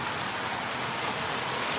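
A car drives through flood water in an Arizona parking lot during a monsoon storm, a steady broad rushing splash and spray with no distinct breaks, fairly loud and without talk.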